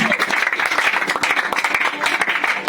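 A church congregation breaks into brief, dense applause, many hands clapping close and lively in a reverberant worship hall, with a few voices mixed in.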